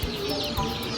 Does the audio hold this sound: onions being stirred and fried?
no